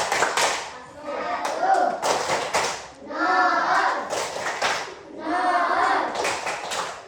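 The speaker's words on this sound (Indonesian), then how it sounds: "Sekarang kita beri tepuk tangan." Students in a classroom clap together in three loud rhythmic bursts of rapid hand claps after a group presentation, close by and filling the room.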